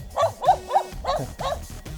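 A dog barks outdoors along a forest hiking trail, about five or six sharp, loud barks in quick succession, close by, with a faint voice underneath.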